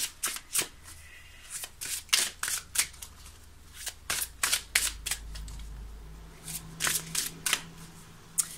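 Tarot cards make a fast run of crisp, close flicks and slaps as they are handled and shuffled, with a brief soft fall of a card amid the steady clicking and no speech.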